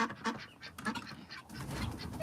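Ducks quack in a barn: a few nasal calls close by, in short irregular bursts over a faint rustling background.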